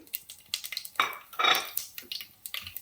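Chopped onions and spices drop into hot oil in a pan, giving bursts of sizzling frying mixed with the clink and scrape of a utensil against metal cookware, close and moderately loud.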